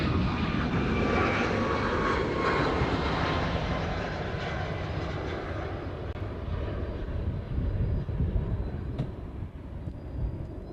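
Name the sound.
aircraft landing on runway 8 left at Honolulu airport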